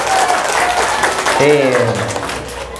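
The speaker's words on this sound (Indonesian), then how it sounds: "Tepuk tangan dulu untuk semua." Audience at an Islamic sermon and year-end prayer gathering applauds in a dense, continuous patter while a voice speaks over the clapping.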